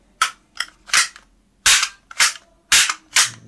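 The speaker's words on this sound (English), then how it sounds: "This is ball bullet toy gun." A toy ball bullet gun fires plastic pellets in six sharp, loud pops, spaced in uneven pairs and singles over a few seconds, with a faint voice at the very end.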